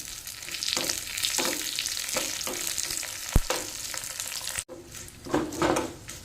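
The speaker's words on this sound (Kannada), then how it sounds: "ಇವಾಗ ಒಗ್ಗರಣೆ ರೆಡಿ ಆಯಿತು" A tempering of curry leaves, dried red chillies and asafoetida sizzles loudly in hot oil at close range. Frying crackles are punctuated by stirring scrapes and a sharp clink of metal, with a short break near the end.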